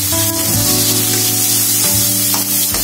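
Sliced ginger and garlic fry in hot oil in a worn wok that has lost its nonstick coating, giving a loud, continuous sizzle with a steady low hum beneath it.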